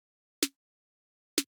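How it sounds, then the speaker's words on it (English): Solo snare drum in an electronic track, two sharp dry hits about a second apart, each a short bright crack with a brief tonal body, alone with silence between. "Here's the snare in solo."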